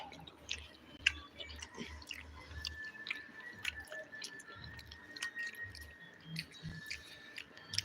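Close, faint chewing of fried mackerel served with sambar, soft wet crunches and squishy bites repeating irregularly with no talk.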